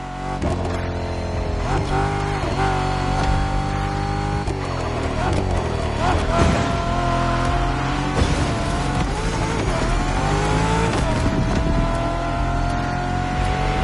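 A car engine runs while driving, a steady, loud motor drone with rising and falling pitch as the revs change, continuous throughout with no talking.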